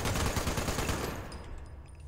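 Rapid automatic plasma rifle fire in Fallout 76 sounds as a dense burst of shots for about a second, then stops abruptly and leaves a fading tail and faint distant pings.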